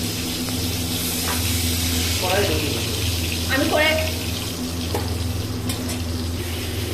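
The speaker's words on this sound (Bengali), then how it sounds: "দেখো চিংড়িগুলো কিন্তু অনেকটাই বড়, দেখো ভাজা হচ্ছে" Large prawns fry in hot oil with a steady, continuous sizzle and crackle, while a person speaks briefly over the cooking.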